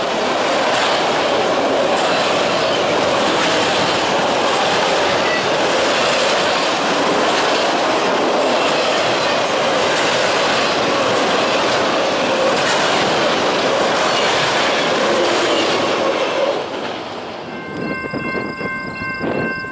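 A freight train led by GE locomotives passes close by near Pemberville, a loud continuous rumble of rolling railcars with clickety-clack that ends abruptly near the finish, leaving faint steady tones.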